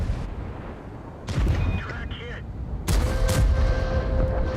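Tank cannon fire during a World of Tanks competitive match, heard as two loud, sharp booming blasts a second or so apart, each with a rumbling tail, over continuous game background noise.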